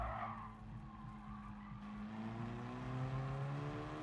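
A race car in GT Sport brakes into a corner, its tyres skidding and squealing in a rising, sustained whine over a low engine drone, heard faintly and alone.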